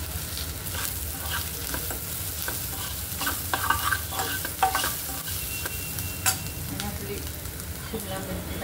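Onions frying with salt in a pan, giving a steady sizzle broken by scattered stirring scrapes and clicks, close and moderately loud throughout with no talking.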